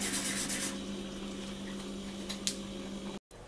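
Polymer clay cylinder earrings being sanded with rough sandpaper, a steady close rubbing hiss that runs on evenly with a steady hum beneath, then a brief cutoff near the end.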